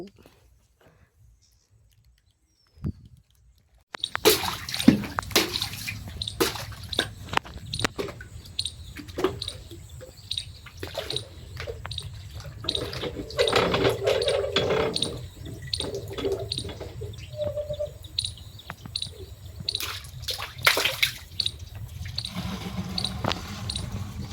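Water being drawn and poured at a village well beside a small pond, with splashing and trickling over a busy outdoor background, starting after a few seconds of near silence; people talk throughout.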